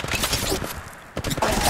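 Rapid bursts of gunfire in the Apex Legends Mobile battle royale game, loud crackling volleys with a brief lull in the middle before the shooting resumes.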